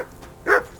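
A dog in Kingdom Come: Deliverance gives a single short bark, close and moderately loud, over a quiet game background with no talking.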